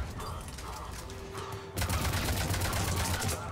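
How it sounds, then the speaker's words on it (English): Rapid video game machine gun fire crackles in dense bursts that grow heavier and continuous partway through, heard at moderate volume. "I gotta get a machine gun."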